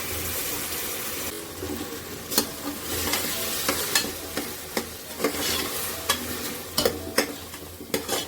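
Ground masala frying and being stirred with onions in a pan for donne biryani, a steady close sizzle broken by repeated scraping stirs of the spoon, with no voices.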